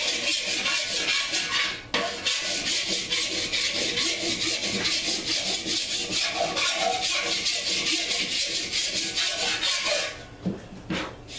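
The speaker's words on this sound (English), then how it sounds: "So basically I'm going to file along like this to find my high spot" A metal file rasps along a motorcycle fender in steady repeated strokes, close and loud, with a brief pause partway and a few lighter scrapes at the end.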